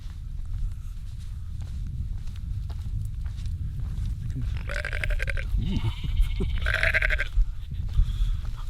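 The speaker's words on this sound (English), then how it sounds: "nice little lambs down here" Lambs bleat on a Lake District fell along Rydal Fell, a few high wavering calls in the middle against steady wind and outdoor rumble, with footsteps nearby.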